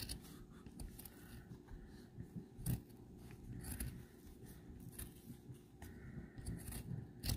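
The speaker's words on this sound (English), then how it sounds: "we're gonna take some good scissors, and what you're gonna do is you're just gonna cut very carefully" Scissors cutting carefully through craft material, a series of soft close snips and scrapes at an uneven, deliberate pace with no talking.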